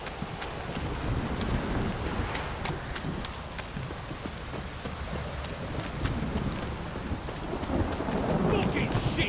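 A thunderstorm in the video game The Witcher 3 brings steady hissing rain with deep rumbling thunder underneath and scattered sharp drop impacts, continuous throughout.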